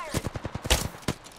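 In the video game Apex Legends, automatic gunfire crackles in a rapid burst of close, sharp shots with one louder blast partway through, and a voice is heard over it.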